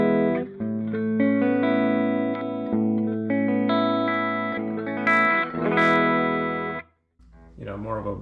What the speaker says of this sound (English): and here's the sound of the guitar and the amp clean